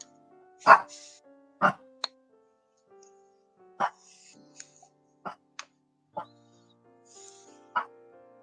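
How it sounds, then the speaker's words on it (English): A small dog gives a string of short, sharp barks spaced a second or so apart, close and fairly loud against a quiet background. "He's got the cutest little bark."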